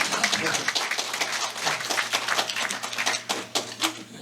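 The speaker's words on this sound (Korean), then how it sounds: "박수로 맞아 주시기 바랍니다" An audience claps steadily at a memorial ceremony to welcome performers, a dense, fairly faint patter of many hands that continues throughout.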